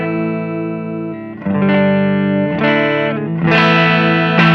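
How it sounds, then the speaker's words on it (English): Clean electric guitar tone played through a Flamma FC05 multi-modulation pedal: a handful of loud, ringing strummed chords change every second or so, alone without talk. "So Sean, why don't you give me a clean tone to start it off?"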